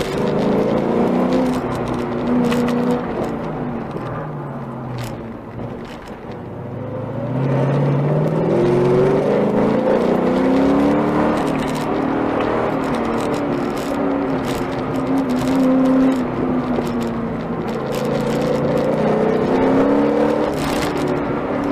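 A car on an autocross run on a frigid figure-8 course, tires set at 26 PSI, with its engine droning and rising and falling through acceleration and easing off, joined by steady road and tire rumble over about twenty seconds.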